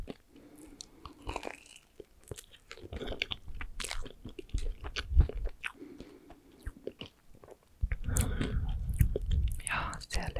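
Chocolate-coated marshmallow treats (Schaumküsse) being eaten up close, with soft crunches of the chocolate shell and wet chewing and biting sounds, quiet and intimate, with brief whispered German speech in between.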